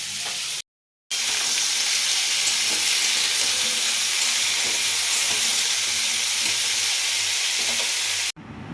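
White potato curry fries in a pan with a steady, loud sizzle and hiss that holds for several seconds, briefly cut off near the start and again at the end.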